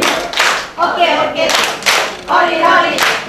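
A group claps in short bursts at a recreation session in a university auditorium, several rounds of quick hand claps separated by brief pauses, with voices chanting Korean body-part words between them.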